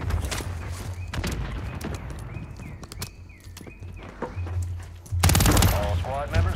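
Rapid gunfire bursts in Call of Duty: Modern Warfare III Resurgence, close and loud, interleaved with footsteps and other game effects, building to a dense volley near the end.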